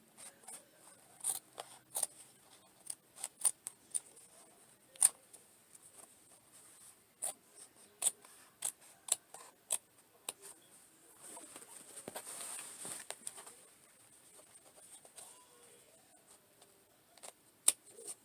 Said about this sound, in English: make sure you use some nice, good, sharp scissors. This is for denim.